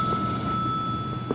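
Telephone ringing during a live call-in giveaway on an engineering show: a bright electronic ring tone sounds steadily and close, with a faint thump near the end and no talk.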